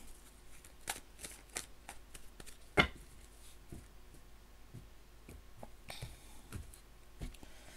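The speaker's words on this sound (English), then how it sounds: "I'm just going to give these a bit of a shuffle till it feels right" Soft, repeated riffling and slapping of tarot cards being shuffled by hand, close and quiet, with irregular bursts and pauses.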